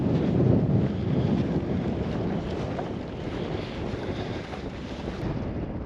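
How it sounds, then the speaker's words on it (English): Howling wind sweeps through the Weasel River valley on Baffin Island, a rough low rumbling gust that buffets steadily, fairly quiet with no voices. "just howling winds blowing through it"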